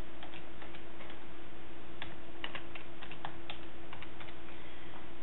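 Rapid key presses on a computer keyboard while entering job-tracking details, a run of faint, irregular clicks over a steady low hum with no one talking.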